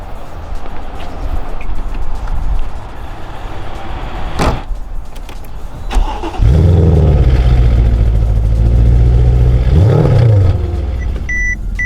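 A Mercedes CL500 starts after a door thud and a couple of clicks: the engine catches with a loud roar, settles into a strong steady idle, then gives a brief rev before a beep sounds.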